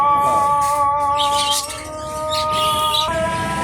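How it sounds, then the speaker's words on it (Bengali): Pet doves (gugu) kept in pairs call inside an aviary. Bright chirps and calls are set against a steady, sustained tonal hum, loud and close. "আবার আমরা গুগুতে আসলাম, যেহেতু আরও 2 পেয়ার গুগুর আছে বাইরের কাছে"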